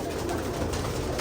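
Teddy and golden pigeons coo softly and continuously, the low murmuring sound close by and steady under constant background noise, with no voices.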